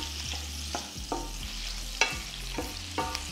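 White wine poured into a hot frying pan with crushed garlic and a bay leaf, setting off a steady sizzle broken by several stirring scrapes, close and fairly quiet with no talking.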